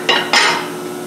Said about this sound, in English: Now what you want to do is advance the table with your big wrench.